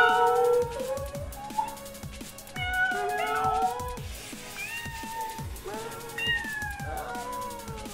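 Repeated human-imitated meowing, rising and falling in pitch, over rhythmic background music; the meows sound like a cat.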